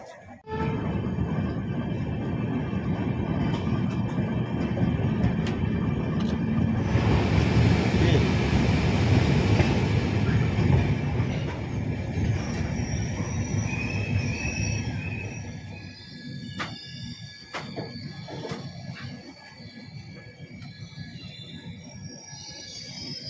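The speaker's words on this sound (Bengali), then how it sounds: "2 মিনিট দাঁড়িয়ে কিন্তু ট্রেন এখানে ছেড়ে দিচ্ছে।" Howrah Ahmedabad SF Express leaving a station after a short halt, a loud swelling roar of wheels and carriages with metallic squeal that fades after a while, leaving quieter background sounds and faint voices.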